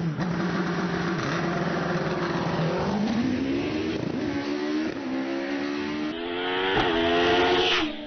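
David Warburton's 1600 GR59 hillclimb car launches off the start at a British Hillclimb Championship run-off, its engine screaming loudly and rising in pitch through several quick gear changes.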